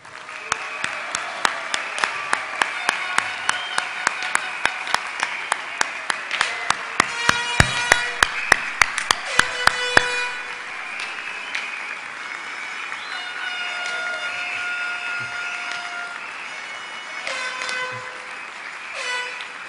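Guests at a 2009 Puerto Rico National Guard ball give the non-commissioned officer corps strong applause, clapping in a loud, steady rhythm for about ten seconds before it fades into softer scattered clapping and room murmur.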